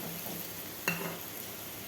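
Garlic, onion and green chilli frying in hot oil that has just fried dried fish, a steady soft sizzle with a brief louder crackle as ingredients hit or are stirred, close and without talk.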